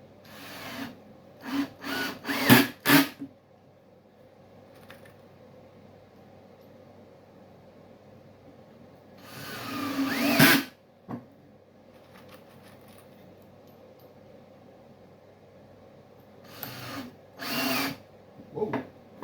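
A power drill drives screws into a wooden handle in short bursts, a few quick pulses early on, a longer drive midway and two more near the end, with quiet workshop handling in between.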